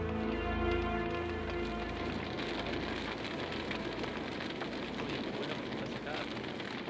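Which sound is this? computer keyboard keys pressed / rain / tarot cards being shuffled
rain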